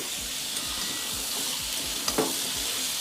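Pumpkin stirred with ginger-garlic paste and green chillies in a hot frying pan, a loud continuous sizzle with soft spatula scrapes and a faint clink, close up and without speech.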